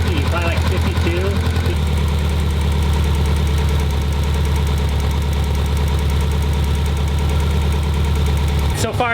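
A rebuilt Subaru EJ207 engine from a neglected STI runs just after its first start, a steady close idle with a rough ticking knock, while a person talks briefly at the start.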